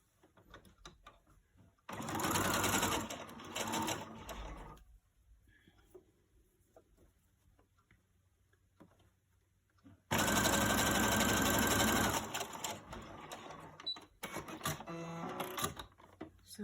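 Sewing machine stitching a fabric face mask, with two loud bursts of rapid mechanical whirring separated by quieter handling and rustling of fabric, close to the microphone.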